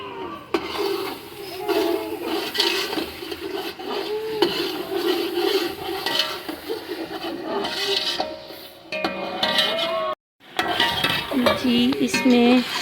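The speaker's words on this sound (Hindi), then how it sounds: "अभी इसे अच्छे से फ्राई कर रहे हैं।" Onions fry with chili and spices in a pot, with steady sizzling under repeated clatter of a spoon scraping the metal, close and fairly loud, and a voice joins briefly near the end.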